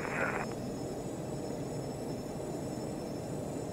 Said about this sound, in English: We'll advance to takeoff power. And takeoff power is set.